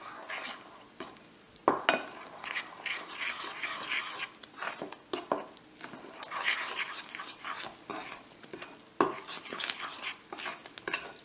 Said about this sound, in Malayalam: ശർക്കരപ്പാനി ഒഴിച്ചു കൊടുത്തിട്ടൊന്ന് മിക്സ് ചെയ്യാം.